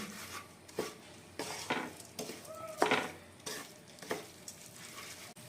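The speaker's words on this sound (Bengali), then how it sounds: "আর এখন চালগুলো ভালো করে মশলাগুলোর সাথে মিশিয়ে নিতে হবে।" Rice being stirred with spices in a pan for muri ghonto, a scraping spoon working through the grains in repeated strokes under a soft, steady sizzle, close and moderately loud.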